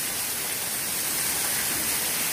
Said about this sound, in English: Somebody order rain?